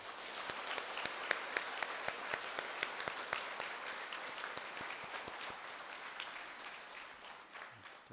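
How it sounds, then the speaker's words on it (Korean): A church congregation claps steadily in thanks after a sermon, a faint, even patter of many hands carrying on for several seconds before easing off at the end. "박수 한번 부탁드리겠습니다"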